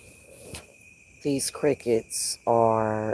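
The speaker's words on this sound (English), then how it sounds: "they're either crickets or cicadas. Sound like cicadas, actually." A steady, high-pitched insect drone of crickets or cicadas runs throughout, with a person speaking briefly over it.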